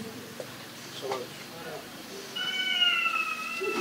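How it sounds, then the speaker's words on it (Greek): A pet cat meows in a few short, thin calls indoors, faint at first and then a clearer, sustained meow near the end, with a person talking at moments. "γιατί γελούσε η γάτα μου"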